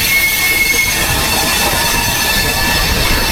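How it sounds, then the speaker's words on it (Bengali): The Mithila Express (Howrah–Raxaul) rumbles loudly around a bend, its wheels squealing in a thin sustained whine over steady rolling noise, heard close from on board. "বাপ রে, ট্রেনের কি সাউন্ড! আর আমাদের ট্রেনটা গোল হয়ে বেন্ড হচ্ছে।"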